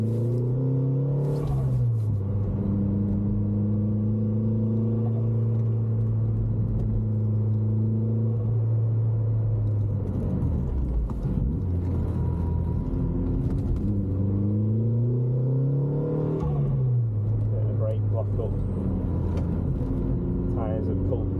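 A 300hp Vauxhall VXR car driving laps of the Cadwell Park race track, its engine rumbling loudly from inside the cabin and rising and falling through the gears as it accelerates out of corners.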